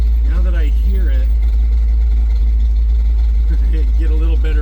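A 1963½ Ford Galaxie with a newly fitted exhaust drones with a loud, constant low rumble while driving, as someone talks over it at the start and again near the end.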